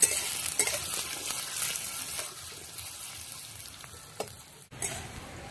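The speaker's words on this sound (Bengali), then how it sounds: "মূলোটাকে একটু ভেজে নরম করে নেব" Radish sizzling as it fries in a pan for a winter-vegetable dried Bombay duck chochori, a steady moderate hiss with a few soft stirring clicks and a brief pause near the end.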